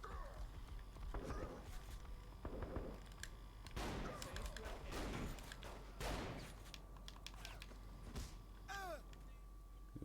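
Video game gunfire crackles in bursts of rapid shots, mid-distance, with talk running alongside and under it.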